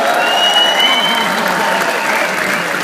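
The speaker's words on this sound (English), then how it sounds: "round of applause for John Altman." A room full of people applauding an actor at a Q&A after a Quadrophenia immersive cinema event, loud continuous clapping throughout with some crowd noise and a faint tone in the background.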